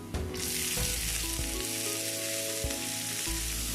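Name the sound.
chopped broccoli frying in tempered oil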